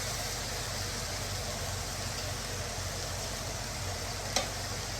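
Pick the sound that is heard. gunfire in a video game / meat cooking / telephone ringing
meat cooking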